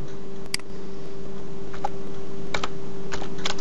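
Keystrokes on a computer keyboard while a password and a captcha are typed, scattered light clicks that come in small bursts over a steady electrical hum, close and moderately loud, with no talking.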